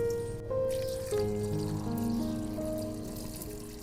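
Water is poured from a vessel onto cut potatoes with salt in a village kitchen, a steady close trickle and splash running for several seconds with a rising gurgle as the pot fills.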